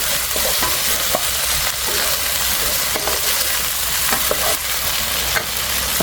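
Whole shrimp stir-frying in a hot pan with garlic, a steady close sizzle with occasional stirring scrapes, no voices.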